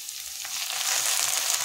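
Browned onions sizzling in hot oil with ginger-garlic paste just added, a steady bright frying hiss that swells slightly as it continues.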